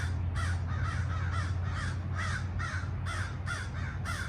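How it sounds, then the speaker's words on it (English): Crows caw over some food outdoors in a wooded spot, giving a regular series of harsh calls about twice a second above a steady low background rumble. "Crow's got some sort of food over here. They're not too happy."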